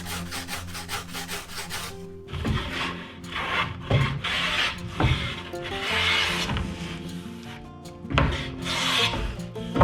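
Tamo ash wood is hand sanded along a curved edge for a washbasin counter, giving loud rhythmic rasping strokes, a quick run of short scrapes followed by longer back-and-forth rubs with brief pauses, close and without talk.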